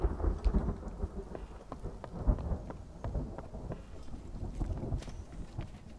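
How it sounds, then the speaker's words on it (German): A thunderstorm in Warhammer: End Times - Vermintide brings steady heavy rain and low rumbling thunder with a few sharper cracks, all at a constant loud level with no talking. "Wo kommen denn da auf einmal das Gewitter her?"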